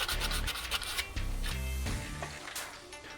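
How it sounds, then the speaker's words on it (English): Hand sanding of filler on a Mazda Miata rear body panel during repair, quiet repeated rasping rubbing strokes in an uneven rhythm, close up with no talk. "And then, sanding and more sanding."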